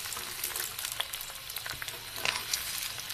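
Aloo gobi paratha frying in oil on a flat pan, giving a steady close crackling sizzle with scattered sharp pops and spits throughout, no voices.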